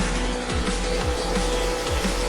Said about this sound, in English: Our engines are revving.